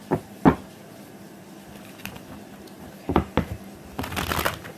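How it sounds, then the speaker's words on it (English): Cards are shuffled close by: a few sharp taps and flicks, then a quick riffle near the end, with quiet gaps between. "I just like shuffling."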